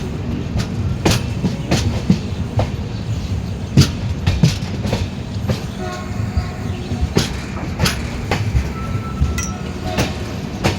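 Train 15655 from Guwahati to Katra rolling into Jammu Tawi railway station, with a steady rumble and irregular metallic clanks and clicks from the wheels and couplings, heard from on board at moderate loudness.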